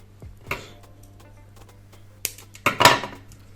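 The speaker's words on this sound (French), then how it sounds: "Oh, la petite tige, je vais la couper" Snipping a small stem on a die-cut paper card: a few sharp, close clicks of cutting, with two brighter snaps near the end against a quiet background.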